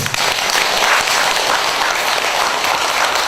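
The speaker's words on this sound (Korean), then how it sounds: "열심히 잘했는데 박수 한번 쳐드릴까요?" Audience applause during a Buddhist temple sermon, a dense, continuous burst of clapping from a gathered crowd, fairly loud and near, with no talk over it.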